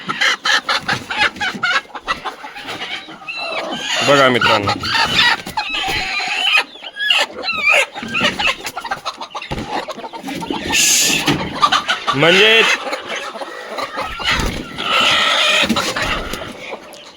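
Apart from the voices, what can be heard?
broody hens clucking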